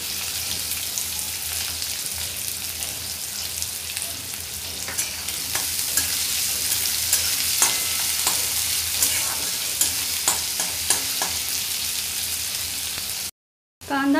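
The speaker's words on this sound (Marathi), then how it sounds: "कांदा चांगला सोनेरी रंगाचा होईपर्यंत भाजून घ्यायचा आहे।" Onion frying in a pan for methi bhaji, a loud close hiss of sizzling oil that is constant throughout, broken by stirring clicks and scrapes and cut off by a brief gap near the end, with no talking.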